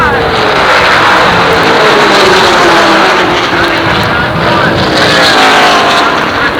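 Late model race cars roaring around Jennerstown Speedway in a 1988 feature event, a loud continuous engine drone with pitch sweeps as the pack passes close, filling the whole stretch.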